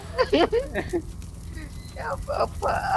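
A buffalo moos in a few drawn-out, low calls, with people talking nearby.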